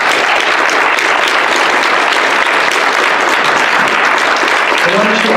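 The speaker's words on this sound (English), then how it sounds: "Can we get a round of applause?" A convention audience at a panel on mentoring gives the panelists a round of applause, loud, dense and continuous clapping filling the room at a steady level, with a faint voice emerging near the end.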